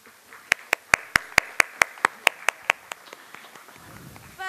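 About a dozen sharp, evenly spaced hand claps ring out at an awards ceremony. They sound close and loud, then fade out as a low murmur follows.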